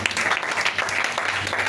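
A church congregation claps together in a brief burst of applause, a steady patter of many hands heard at moderate distance.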